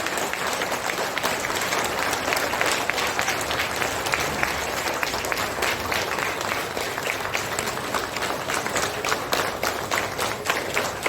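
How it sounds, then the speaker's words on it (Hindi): An audience claps steadily and continuously to welcome a respected senior didi at a spiritual class in Panchgani, a dense, even wash of applause from many hands. "हमारी आदरणीय दीदी जी को लगातार तालियों से उनको वेलकम करते हैं, अभिनंदन करते हैं, स्वागत करते हैं।"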